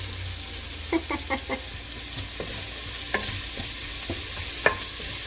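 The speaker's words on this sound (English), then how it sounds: "And they can start cooking right along with the sausage. Give a little stir." Sausage and chopped onions sizzle steadily in a pan while a utensil stirs them, producing a run of scraping clicks and knocks over the constant frying hiss.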